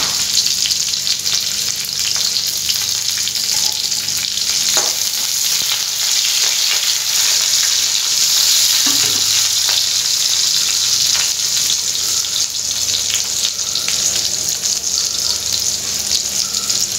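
Onions fry in hot oil in a pan, giving a dense, even sizzle that runs unbroken and close throughout, with occasional faint stirring touches and no speech.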